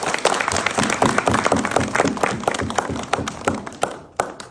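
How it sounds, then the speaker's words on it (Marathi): A crowd at an Art of Living camp claps together in loud, dense applause that fills the space and then thins out as the clapping tapers off. "त्याच्याबद्दल आपण एक जोरदार टाळ्या वाटतो"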